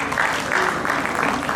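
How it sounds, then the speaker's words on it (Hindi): Audience applause for the women's safety team at a Women's Day honour ceremony, a dense, steady wash of clapping from many hands that fills the whole moment with no talking. "तो फिर जोरदार तालियां महिला शक्ति दल के लिए।"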